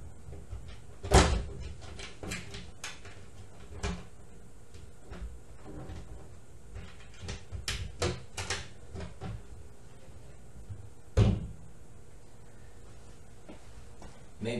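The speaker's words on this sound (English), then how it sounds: "I may open the door just to see the components here a little bit." The cabinet door of an antique Kinraide coil machine opens and closes with several sharp wooden knocks and clacks, two of them louder, scattered among small handling clicks over a quiet background.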